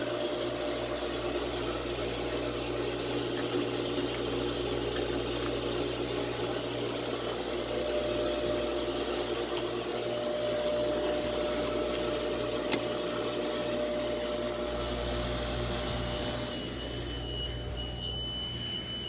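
A 65-foot yacht's starboard engine starts and idles: a steady, droning hum with a low rumble runs continuously, shifting slightly in tone near the end, with no talking.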